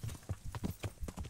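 Horse hooves clip-clopping on a road in the video game Kingdom Come: Deliverance, a quiet, regular trot of distinct hoof strikes in an even rhythm, with no voices over it.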